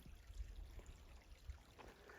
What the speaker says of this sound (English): I found some clear, good running water